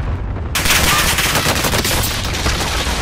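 Loud, dense barrage of cluster strike explosions in the Call of Duty Warzone video game, a sudden onset of rapid overlapping blasts and crackling bursts that roll on continuously, close and heavy, with no voices.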